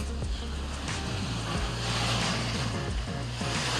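Waves of the Aegean Sea wash steadily against the shore on Crete, a continuous rolling surf with some wind rumble on the microphone.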